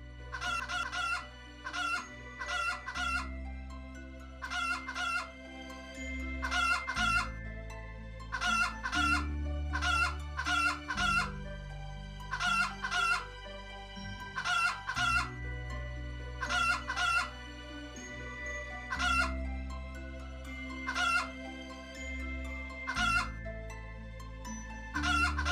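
Chickens and a crowing rooster in the farming game Havendock, repeated clucking bursts and crows looping over a steady game music bed, with no speech.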